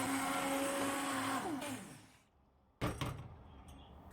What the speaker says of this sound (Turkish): Blender'dan çekiyorum.